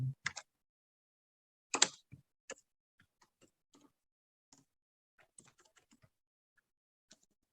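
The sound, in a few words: typing a line of Python code on a keyboard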